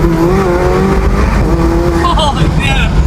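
McLaren supercar launching hard from a roll on a bumpy road with its exhaust valves open, a loud steady engine roar rising in pitch, with faint tire noise and voices in the cabin.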